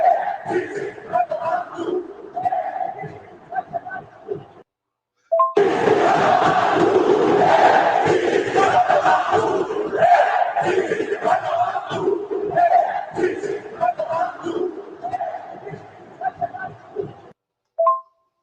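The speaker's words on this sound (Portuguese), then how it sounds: "Este foi o som do Maracanã depois dessa vergonhosa derrota para o" Crowd at the Maracanã stadium after Flamengo's home loss to Peñarol in the Libertadores quarterfinal: a dense, loud roar of many voices with shouting and chatter, swelling and fading, with brief gaps of near-silence.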